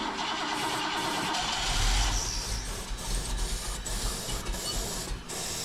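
An engine turns over and catches, its low rumble swelling near two seconds and then running with uneven revving bursts, close and steady with no talk.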